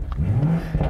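A 2020 BMW Z4 M40i engine revs in sport mode, a loud, close, throaty rise and fall lasting about a second, with a second surge near the end.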